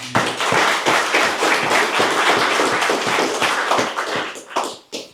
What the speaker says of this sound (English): Another round of applause for Mark Wilson.